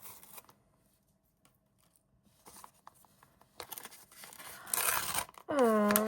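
Soft crinkling and rustling build into a loud burst of paper tearing, with a short high tonal chime at the end.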